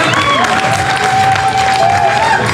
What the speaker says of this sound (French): Est-ce qu'on peut les applaudir pardon